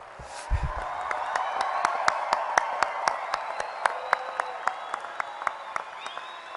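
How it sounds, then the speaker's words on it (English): A big graduation crowd at a university winter commencement gives another round of applause, a dense, lively clapping roar with sharper individual claps standing out steadily over several seconds, a brief low thump near the start. "And I think we can give them another round of applause with a little more life in it."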